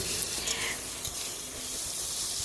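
Boiled jackfruit seeds frying in a kadai with a loud, dense, steady sizzle that fills the whole stretch close up, with a few faint stirring knocks underneath.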